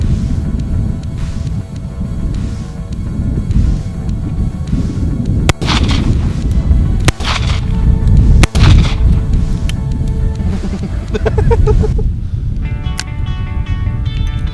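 Smith and Wesson Chief's Special .38 revolver fired at a metal target outdoors, several sharp, loud gunshots spaced a second or two apart over a steady noisy background, with a brighter ringing tone near the end.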